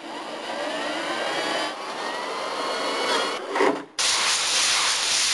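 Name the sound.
sanding down aircraft part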